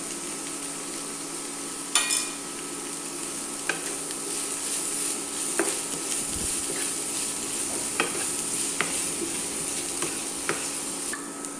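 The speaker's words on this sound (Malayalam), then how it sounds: "കുറച്ച് ക്യാപ്സിക്കം, കുറച്ച് ഉപ്പിട്ട് കൊടുക്കുക. എന്നിട്ട് വഴറ്റിയെടുക്കുക." Capsicum sautéed with salt in a pan for egg noodles, a steady close sizzle of frying broken by several light scraping stirs at irregular intervals, with no talk.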